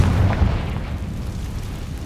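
A Confringo spell in Hogwarts Legacy bursts into a loud, deep explosion at the start, its rumble fading slowly over the following two seconds without any speech.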